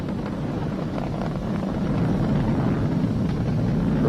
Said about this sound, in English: We've exceeded Mach 1 on the Falcon 9.